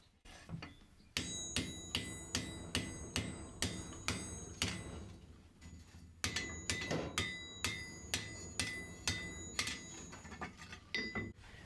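A hammer strikes heated steel being shaped into a batarang, ringing out as a long, steady series of sharp metallic blows in two runs with a short break between them, close and clear.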